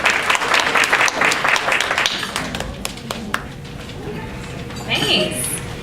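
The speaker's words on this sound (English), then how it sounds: "So let's give a round of applause to Ms." Audience applause at a fundraising gala, a dense burst of clapping that thins out and fades over several seconds, followed by a speaker's voice.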